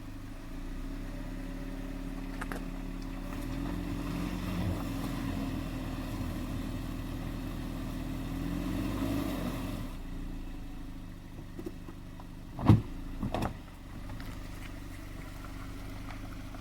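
A Jeep Compass in auto mode and first gear climbs an off-camber hill, its engine droning steadily and close for about ten seconds, then easing off as a couple of sharp knocks and clunks come through near the end.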